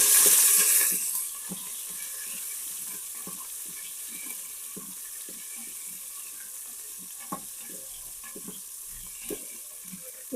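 Green chillies sizzle in a tempering of mustard seeds and dried red chillies in an Instant Pot, with a sharp burst at first, then a softer steady hiss broken by frequent small crackles and stirring clicks.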